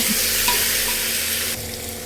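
Ginger garlic paste sizzles loudly in a hot pan for broken wheat bisibele bath, a steady close frying hiss that drops slightly in level near the end.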